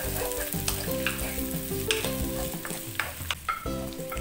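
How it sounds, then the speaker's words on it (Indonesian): Sausage is stir-fried with garlic and onion in a pan for a Korean-style vegetable dish, with a loud continuous close sizzle and scraping stir strokes over a steady background hum, and no talking. "Aduk-aduk sosis supaya tercampur dengan bawang putih dan juga bawang bombay."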